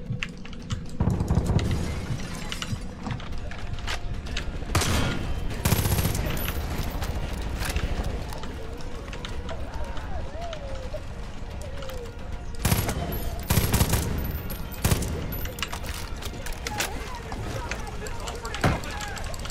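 Bursts of rapid automatic gunfire and sharp shots ring out in the first-person shooter game Far Cry 5, mixed with game noise and a voice talking over the action.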